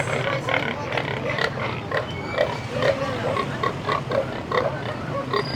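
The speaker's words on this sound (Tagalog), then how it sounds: "hinihingal ang mga baboy, mainit," Several pigs grunting and panting from heat in quick, uneven bursts, close by, over a steady background din at a pig sale.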